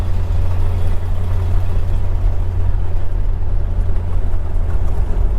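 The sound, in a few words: 1952 Ford F1 pickup truck driving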